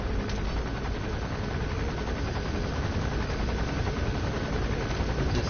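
Helicopter rotor drone in Metal Gear Solid V: The Phantom Pain, a steady dense whir holding at constant loudness throughout with no talk.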